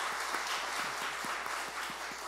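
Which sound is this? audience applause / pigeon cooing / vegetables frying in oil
audience applause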